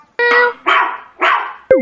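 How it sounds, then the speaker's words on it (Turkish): Dogs barking on a farm in a children's animated song: three quick, close, loud barks in a row, followed by a brief musical note. "Çiftliğinde köpekleri var."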